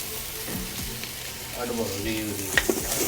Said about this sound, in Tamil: கொஞ்சம் எண்ணெய் விடுவோம் நெய் வந்து விட்டுருவோம் பேனுக்கு